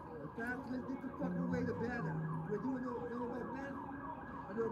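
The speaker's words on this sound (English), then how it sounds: "I do hear sirens right here in the background." A police car siren wails at night on a busy Los Angeles street, its warbling tone steady and fairly loud over traffic noise as the vehicle nears, with someone talking over it.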